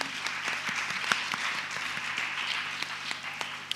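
An audience breaks into steady applause at a girl child project event, a continuous wash of clapping from many hands in a room, with no talk over it.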